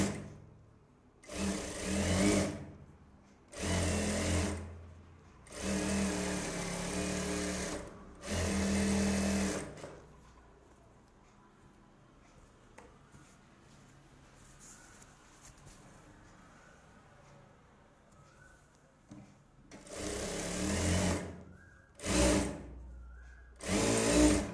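A sewing machine stitches a blouse in a tailoring session, running in short bursts of rapid mechanical whirring and chattering, about five bursts, then a quiet stretch, then three more bursts, close and clear.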